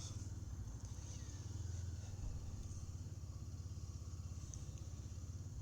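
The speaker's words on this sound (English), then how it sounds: "Funny how the bike sound is still working" A Royal Enfield Guerrilla 450 motorcycle idles steadily on a spring ride stop at a cafe, its low engine thrum pulsing in an even rhythm, close and constant, with no talk.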